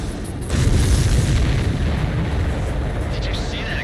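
A supply ship explodes in the Ace Combat 7 video game, a deep booming blast that swells after half a second into a sustained, rumbling roar lasting to the end, loud and close.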